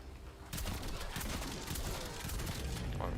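Stun grenades going off in Call of Duty Black Ops Cold War Zombies: after half a second of quiet, a dense burst of crackling, popping detonations erupts and rumbles on loudly to the end.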